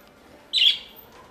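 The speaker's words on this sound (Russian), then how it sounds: "Это сова ушастая, друзья." A long-eared owl at a contact petting zoo gives a single short, shrill, high squawk lasting about half a second, close and clear over quiet background.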